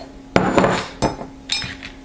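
Cubes of pink and purple soap drop into a Pyrex glass bowl, making three separate hard clinks and clatters spaced about half a second apart, with no talking.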